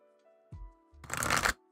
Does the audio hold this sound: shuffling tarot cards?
yes